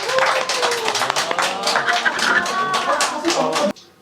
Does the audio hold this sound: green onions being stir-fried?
no